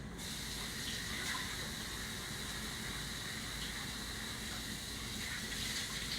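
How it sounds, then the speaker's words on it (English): Hands being washed under a running kitchen tap, a steady, loud gush of water that runs continuously with a faint splash and hiss layered over it, no voices. "I should wash my hands."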